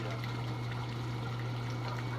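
Water running steadily from a tap into a worm food processor, a soft continuous trickle over a low constant hum.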